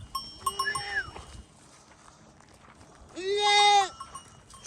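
Two sheep bleats ring out, one short and one long and loud, with soft background noise between them.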